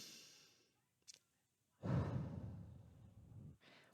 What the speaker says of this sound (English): you start taking deep breaths in through your nose and out through your mouth